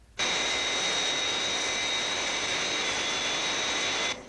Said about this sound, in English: The new Fireflash Mach 6 atomic airliner is in distress at London Airport.